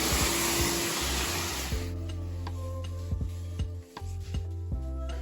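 A vacuum cleaner hisses loudly while cleaning the engine bay of a 1973 Porsche 911, then cuts off after about two seconds, leaving scattered light clicks and taps in a quiet space.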